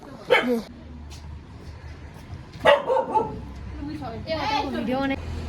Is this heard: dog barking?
yes